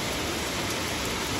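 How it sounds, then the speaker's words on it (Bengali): Steady rain falling in Kolkata, a dense, even hiss of downpour with no breaks, close and continuous, no voices. "ফাইনালি বৃষ্টি পড়ছে"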